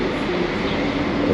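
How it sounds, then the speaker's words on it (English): Regional, DB and ICE trains passing through Nuremberg station, a steady low rumble of rolling stock heard up close, with a faint rising squeal at the end. "these trains running up on the outside, that's just the regional trains and the DB and the ice trains"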